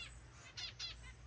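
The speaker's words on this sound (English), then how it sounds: "we've got blue-headed parrotfinch back there, one of the spice finches zipping around" Two quick high chirps from small finches, such as blue-headed parrotfinches and spice finches, in an aviary, close and bright, over a low background hum.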